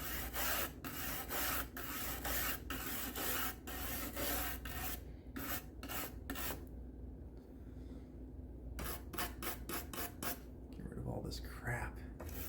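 Close, steady rubbing and rasping strokes from scrubbing a vintage IBM 5150 computer part with isopropyl alcohol, repeated in quick bursts with brief pauses between them.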